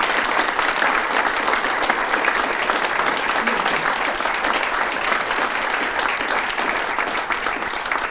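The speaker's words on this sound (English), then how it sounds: "Let's give all of our recipients one more round of applause." Audience at an awards ceremony applauding the recipients, a dense, continuous wash of clapping from many hands that holds steady and loud from start to finish.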